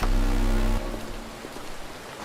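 Rain falling in the video game ADACA, a steady noisy wash with a heavier low rumble at the start that drops to a lighter patter, no voices.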